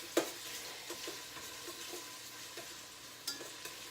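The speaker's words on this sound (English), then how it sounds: "I'm going to give my onions a stir" Onions frying in oil for cabbage soup get stirred, a faint steady sizzle broken by several soft spoon scrapes and light clinks against the pot.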